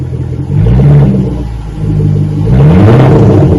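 A 2017 Range Rover with its rear mufflers deleted revs hard after a cold start, a loud, deep exhaust rumble that swells twice and holds steady close by, with no talking.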